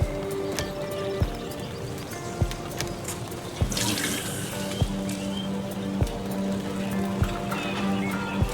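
Water point in the survival city-builder Endzone - A World Apart: a steady stream of water pours continuously, with faint regular clip-clop knocks repeating about once a second beneath it.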